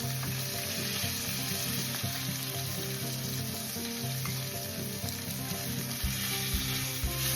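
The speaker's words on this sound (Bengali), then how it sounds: "মাছের পিসগুলো হালকা করে ভেজে নিয়েছি, এবার একে একে প্লেটের মধ্যে তুলে রাখবো।" Pieces of fish fry in oil in a pan, giving a steady, close sizzle that carries on throughout, with a few faint bumps and stirring sounds and no talk.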